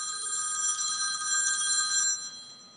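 A telephone bell rings steadily in a sustained electronic trill during a live talk show, loud and alone for about two seconds before cutting off.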